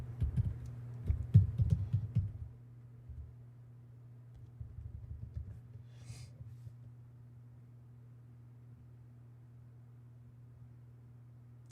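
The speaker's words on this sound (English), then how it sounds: "I probably should keep typing." Bursts of quick keyboard typing clatter at close range for a couple of seconds, pause, then resume more softly, over a steady low electrical hum in a quiet room.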